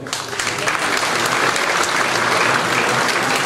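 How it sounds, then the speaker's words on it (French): A dense, steady round of applause from an audience at a 2016 New Year's greetings ceremony, honouring the elected officials who staff the polling stations, loud and continuous throughout with no voices over it. "On peut les applaudir."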